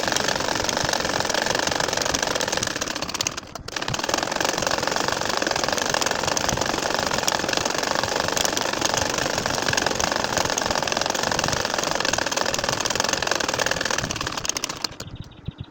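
A sewing machine stitches straight lines across a nakshi kantha quilt with a loud, continuous mechanical drone and one brief pause near the start.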